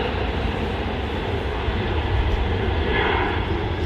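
Virgin Atlantic Airbus A350 jet at Manchester Airport, a loud continuous broadband engine roar holding steady and swelling slightly toward the end.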